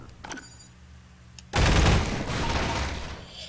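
Heavy automatic gunfire from the Half-Life 2 video game bursts in suddenly after quiet ambient sound, a loud sustained fusillade that dominates the rest of the clip.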